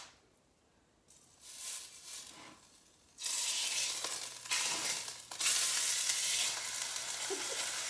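Skirt steak laid into a hot pan to sear breaks into a loud, steady sizzle midway through, after a quieter start, with brief surges as the meat settles against the metal.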